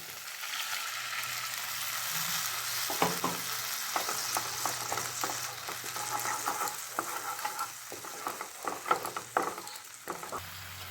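A pan of chitol fish curry bubbles and sizzles steadily as the added water comes to a simmer, with close, irregular stirring clinks and scrapes over the continuous frying hiss.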